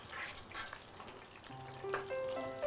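Salmon fries in a pan with a steady close sizzle and crackle, brief stirring clinks and scrapes rising near the end.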